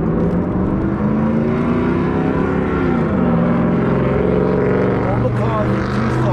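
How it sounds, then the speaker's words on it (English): A car engine revs as it drives past on a street in Tucson, a steady, loud drone whose pitch slides downward midway as it passes, with faint chirpy sounds near the end. "All the cars in Tucson and folks sound exactly like that."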